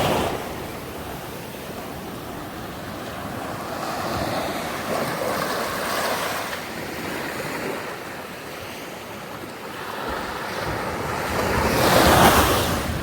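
Ocean waves wash onto a beach in Flores, a steady broadband surf roar with wind buffeting the microphone, swelling in several rolling surges and peaking loudest near the end.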